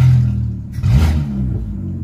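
Car engine with a reported aluminium-oil mixture concern revving up quickly in a workshop, a loud deep rumbling rise that holds a steady roar, close by with no talking.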